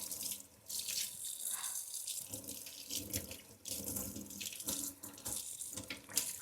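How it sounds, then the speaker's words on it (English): Hot tap water runs steadily over a popsicle mold in a sink, a continuous close splashing hiss with brief breaks as the mold is turned from one side to the other. "you want to run it under the hot water on each side, like that."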